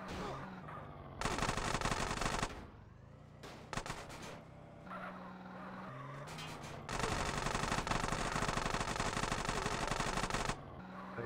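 Sustained automatic gunfire from gang shootouts in GTA San Andreas, long loud bursts of rapid shots with brief pauses between volleys, heard without talk.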